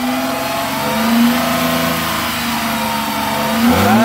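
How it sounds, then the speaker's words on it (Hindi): A car engine revs up and settles back during an ignition coil and wiring check, a steady mid-pitched engine drone with rising pitch swells near the start and end, loud and close with no talk. "रेस कीजिए"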